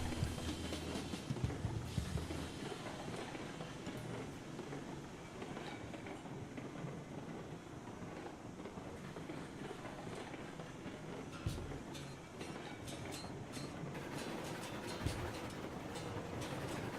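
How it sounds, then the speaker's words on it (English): A video game locomotive runs steadily along the track, producing a continuous low rumble with rhythmic clickety-clack and occasional louder knocks, heard alone at a fairly even level. "Probably should actually refuel my locomotive soon."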